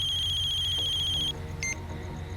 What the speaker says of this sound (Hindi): फिर से अमृत का फोन